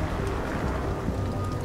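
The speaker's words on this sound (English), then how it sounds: "I swear it looked warmer outside and now it's suddenly raining." Steady rain falls in the video game Detroit: Become Human, a constant broadband wash of drops with a faint low rumble beneath, even and unbroken from start to finish.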